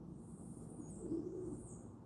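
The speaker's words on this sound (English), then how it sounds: "You'll hear those pigeons." Soft, low cooing of pigeons, faint and steady, with a quiet outdoor hum around it.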